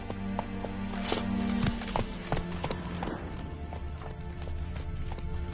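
Roach the horse in Witcher 3 galloping, hooves clip-clopping in a quick irregular rhythm, close and moderately loud over a low game ambience.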